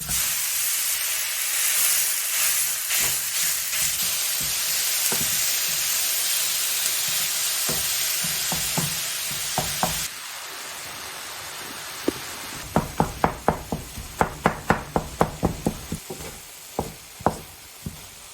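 Chopped onion and ground beef sizzling in a pan with a little oil, a loud steady hiss and crackle with scattered spatters, then quieter with sharp knocks of a utensil on the pan near the end.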